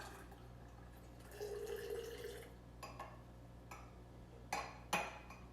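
Reduced balsamic vinegar trickles from a pan into a vinaigrette jar, a soft quiet pour followed by faint clinks and drips of glass and utensils in a calm kitchen.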